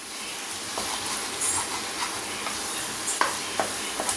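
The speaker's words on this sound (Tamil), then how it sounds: "நாங்கள் வதக்கிட்டே இருக்கோம்" Ginger thokku being sautéed and stirred in a pan, a steady low sizzle with intermittent scraping and clicking strokes of the spoon, fairly close and alone without talk.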